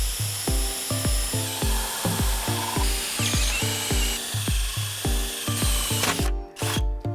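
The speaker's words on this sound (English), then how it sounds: "it shows you where to drill these 4 holes on the front and the 4 holes on the back" A power drill boring holes through a screen door for a lock set, heard as a long run of short, evenly repeated bursts, close and loud, with no talking.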